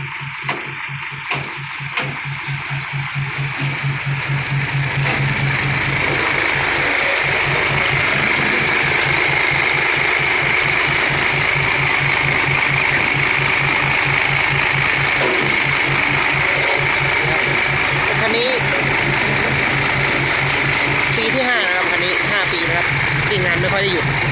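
A Hino J08 truck engine runs at a steady, loud idle with a rhythmic mechanical clatter throughout, heard up close.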